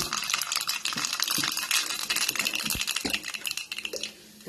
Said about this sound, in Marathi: हा, तेल चांगलं गरम झालेलं आहे. त्याच्यामध्ये आता मी मोहरी घालते.